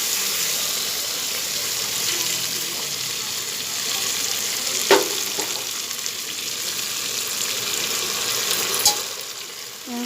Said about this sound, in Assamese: এতিয়া এইখিনি লৰাই এনেকুৱাকৈ মই ভাজি ল'ম, যাতে ভালদৰে মিহলি হৈ পেলাই ভজা যায়।